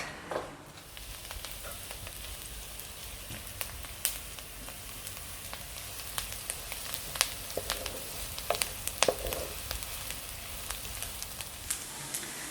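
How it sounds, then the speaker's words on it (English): Onions browning in a pan over medium-low heat for a Punjabi samosa filling, giving a steady soft sizzle and crackle throughout, with scattered small pops and faint stirring scrapes close by. "we're just gonna brown our onions on medium-low heat"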